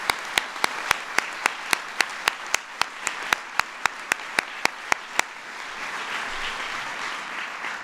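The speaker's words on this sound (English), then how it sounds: "Let's give our mayors a round of applause." Applause from an audience honoring mayors at a White House veterans event, with a dense wash of clapping and sharp, evenly spaced claps punctuating the first five seconds before the clapping thins into a softer, steady patter.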